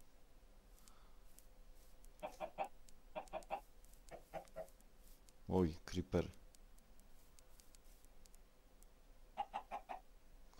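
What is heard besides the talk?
chickens clucking in the video game Minecraft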